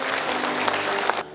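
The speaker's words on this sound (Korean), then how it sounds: "큰 박수로 모시겠습니다." Brief burst of audience applause at a county community meeting as the Seongju county governor is welcomed to the podium, dense clapping that cuts off abruptly near the end.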